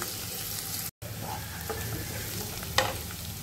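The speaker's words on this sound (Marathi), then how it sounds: "परतून झालं तर त्याच्यावर आपण बारीक चिरलेला कांदा टाकून घेऊ. त्यालाही व्यवस्थित आपण परतून घेऊया." Finely chopped onion frying and being stirred in a pan for a mixed vegetable dish, a steady close sizzle with soft scraping stirs and one brief dropout, then a sharp clink near the end.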